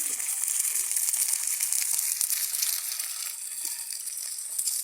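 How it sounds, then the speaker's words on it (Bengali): Eggs frying in hot oil give a steady, bright sizzle with small crackles and pops, close and continuous, and no one speaking. "মোরা কিন্তু ডিম দেয়া তেলে বাজ্যে লইতে আসি।"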